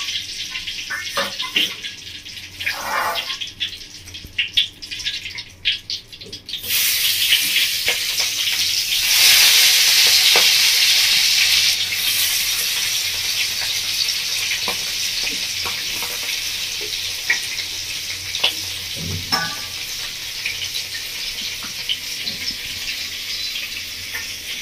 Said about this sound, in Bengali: মাছগুলো খুব ভালো করে ভাজা হয়ে গেছে, এবার মাছগুলো আমি তুলে নেব